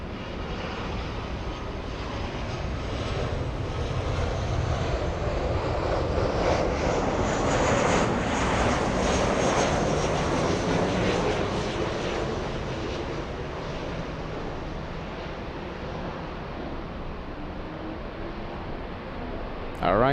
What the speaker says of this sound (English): 757 on the move. Smoky takeoff.